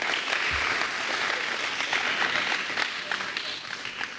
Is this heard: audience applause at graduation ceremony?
yes